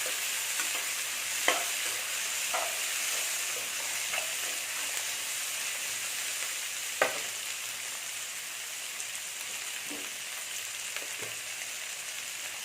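Onions and long-sliced tomatoes sauté in oil for a Mughlai chicken gravy, giving a steady close sizzle with occasional scrapes and clinks of a stirring spoon.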